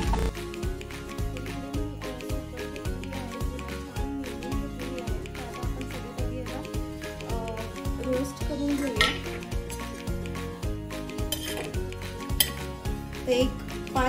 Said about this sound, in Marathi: एक 5 मिनिटं आपल्याला मंद आचेवर छान याला रोस्ट करून घ्यायचं आहे.